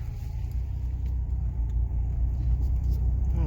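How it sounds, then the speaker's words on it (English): A Buick driving slowly through a parking lot, heard from inside the cabin as a steady low engine and road rumble that holds even throughout with no clear revving. "So you can see actually it's driving right now in a parking lot, and it runs well and drives well."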